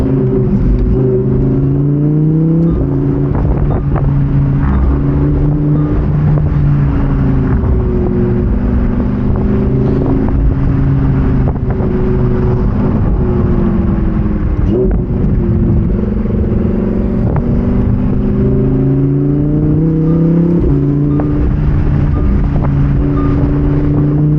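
A Lamborghini Huracan Evo Spyder's V10 engine with a 7-speed dual-clutch transmission pulls hard on a canyon drive, its loud, close roar rising and dropping through repeated gear changes with wind rush underneath.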